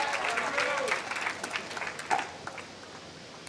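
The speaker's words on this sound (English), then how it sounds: "Cheering for Catherine here." Spectators at a pickleball match between two professional players at the Veolia Sacramento Open clap and cheer in a brief, moderate burst, then fade away.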